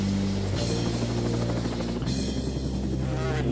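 Helicopter flying overhead, a steady loud rotor drone with strong low harmonics and a whining turbine tone, holding throughout with a slight shift midway.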